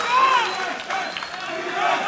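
Live esports crowd at a 2014 LCS North American summer match cheering on TSM, a steady broad roar of many voices with a few whistles rising and falling throughout.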